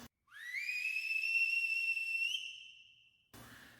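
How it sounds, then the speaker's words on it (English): A single long, shrill whistle blast rising quickly to a sustained tone for about three seconds, then tapering off, followed by a brief rustle. "you can hear the Iceman blow his whistle"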